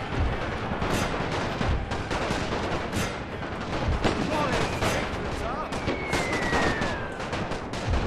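Troops firing rifles and guns on a World War I battlefield in the strategy game The Great War, a continuous distant crackle of shots with occasional heavier booms, steady and unbroken.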